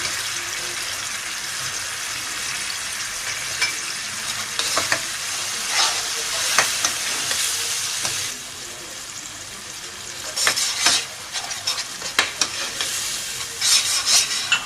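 Masala of tamarind paste, crushed red chilli and salt frying in a pan for black chickpea chaat, with a spoon stirring and scraping in steady bursts over a constant close sizzle, no talking.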